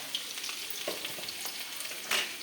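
Mustard seeds and onion fry in a pan, giving a steady close sizzle with scattered sharp pops and crackles and one brief louder hiss burst near the end, with no voices.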